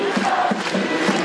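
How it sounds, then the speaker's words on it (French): A large crowd of anti-far-right protesters in Paris chants in unison, a dense, loud wash of many voices with rhythmic pulses of shouting. "Antifascistes chantent ces manifestants à Paris"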